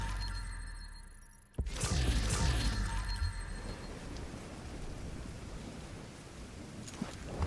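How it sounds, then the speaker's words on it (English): Rain falling in the video game The Division, a steady hissing patter that follows a sharp crash near the start and stays fairly constant throughout. "Standing out here in the open in the rain."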